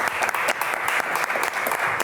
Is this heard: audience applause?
yes